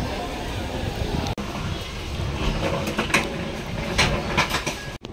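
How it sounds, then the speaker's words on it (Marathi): A passenger train pulls out of Kudal station on the Konkan line in India, a steady rumble with faint rhythmic wheel clatter and rattling carriages. Platform noise and a voice sit nearby, and a sharp knock cuts in near the end. "आणि ही आमची ट्रेन जाते"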